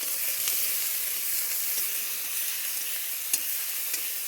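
Ginger-garlic spice paste fries in a pan with a steady, close sizzle and hiss, soft stirring scrapes and a few sharp pops.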